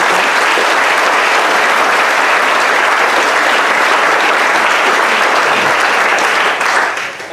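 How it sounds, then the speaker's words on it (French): Sustained, loud applause from a large audience at a hotel opening, a thick roar of clapping hands that holds steady for several seconds before tapering at the end. "que je vous demanderai d'applaudir"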